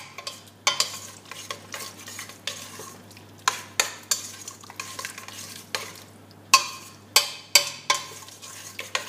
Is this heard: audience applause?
no